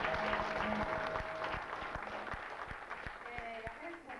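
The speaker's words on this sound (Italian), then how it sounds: "un caloroso applauso dal Comitato a voi." An audience applauds at a committee-hosted evening of Sardinian guitar songs, a dense, steady patter of clapping with voices and tonal sounds rising over it throughout.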